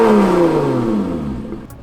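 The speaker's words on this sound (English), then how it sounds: "This is race?" A Lotus sports car engine in race mode revs hard and loud, its pitch sweeping down as it roars past up close, with no voices.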